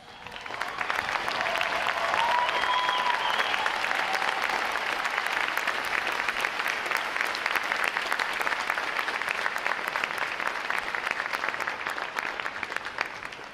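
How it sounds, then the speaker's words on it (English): Sustained, dense applause from a large audience standing to honor veterans at a U.S. Navy boot camp graduation ceremony, steady and loud throughout, with a faint voice briefly audible early on. "please stand for a round of applause"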